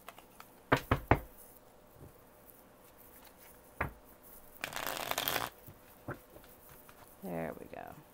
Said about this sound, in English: We're going to shuffle again.